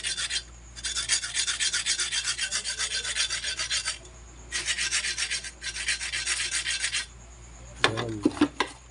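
Long strokes of sandpaper rasp back and forth in steady bursts during piston ring replacement on a Kia Pride engine, pausing briefly between sets, followed by a few soft knocks at the end.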